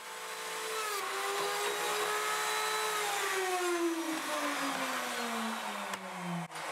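A Castle TSM-12 pocket screw machine drills pocket holes in wood for window trim legs: a loud whining motor run whose pitch slowly sags under load, then stops abruptly near the end.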